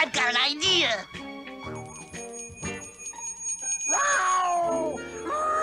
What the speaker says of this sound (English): Quick, ring that bell.